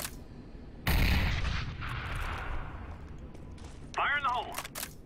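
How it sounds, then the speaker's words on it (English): Grenade thrown and detonating in the video game CS:GO: a loud, sudden blast with a long rumbling decay, then later a sharp burst of clatter and ringing debris near the end. "Throwing grenade."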